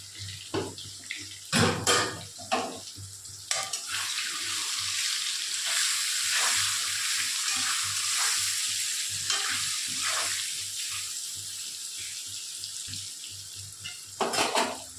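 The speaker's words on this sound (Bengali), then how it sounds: "এবার আলু ভাজা ভাজা হয়ে গেল।" Potatoes fry in a pan with salt and turmeric, giving a steady close sizzle broken by several sharp scraping stirs and clatters, loudest near the start and end.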